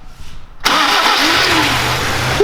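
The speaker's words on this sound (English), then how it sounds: "if you're ever having any lazy starter motor problems, have a listen to this." A Toyota Hilux 2.7L 2TR engine cranks with the starter motor and catches abruptly, then runs loudly and steadily close by.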